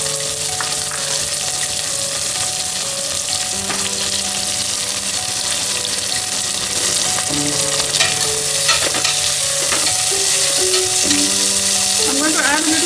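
Chopped onions, green chilies and curry leaves frying with browned urad dal in hot oil, a loud, steady close sizzle with occasional stirring scrapes and a faint tonal hum underneath.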